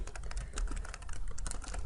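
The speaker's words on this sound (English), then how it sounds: "So you can just start typing away." Fingers type rapidly on a computer keyboard while writing a note, producing dense, close, continuous key clacks with no pauses or speech.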